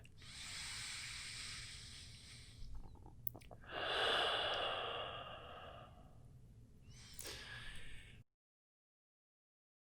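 Slow, deep yoga breathing close by: a long airy inhale-like hiss, a brief pause, then a fuller breath out and another short exhale before silence.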